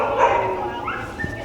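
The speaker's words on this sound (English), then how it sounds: "See all that barking?" A mini German Shepherd gives yelping, whimpering barks indoors, fairly close and continuous through the short stretch, with a high whining quality.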